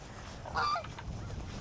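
A goose honks on a pond, a short loud burst of a few harsh calls rising briefly above steady low background rumble.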